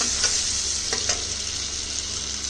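Spice paste sizzles in a pan of doi maach, a fish curry cooked in curd. A steady, close frying hiss runs throughout, with a few brief scrape-like bursts from stirring.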